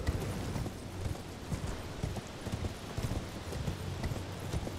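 Horse hooves clop on a road in the Elden Ring video game, a steady rhythmic trot of repeated close hoofbeats running continuously under faint game ambience.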